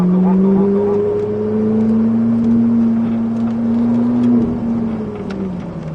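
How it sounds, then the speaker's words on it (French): Ferrari on a track-driving course, its engine droning steadily as the throttle is fed in, the pitch slowly rising and then falling away, heard from inside the car with a faint voice underneath. "augmente ton filet de gaz, encore."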